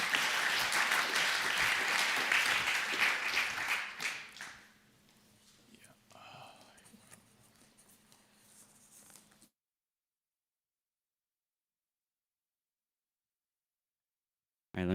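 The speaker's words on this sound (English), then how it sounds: "give another round of applause for Ayush." A crowd applauds loudly for a few seconds at a tech conference session, then the clapping fades into quiet room murmur and shuffling before silence.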